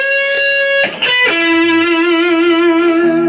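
A distorted electric guitar plays a short solo phrase with pitch bends and a wavering held note, loud and close, with a brief pick attack and slide near the start and no voice.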